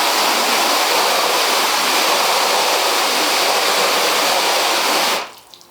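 Steady, loud spray of water from a hose nozzle drumming onto a car hood, continuous broadband hiss for about five seconds before cutting off abruptly, leaving faint drips and quiet.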